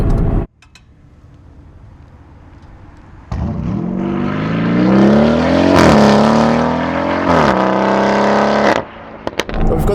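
A Novitec-tuned Lamborghini Urus SE SUV with a V8 engine revs hard and roars past nearby, loud and rising through the gears with sharp shifts, then cuts off abruptly after a quieter idle at the start.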